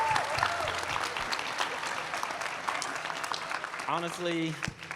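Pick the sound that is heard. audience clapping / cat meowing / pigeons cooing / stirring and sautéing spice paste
audience clapping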